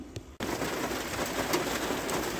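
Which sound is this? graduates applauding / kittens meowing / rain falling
rain falling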